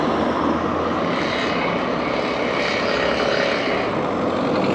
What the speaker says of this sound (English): I can see the drone in there.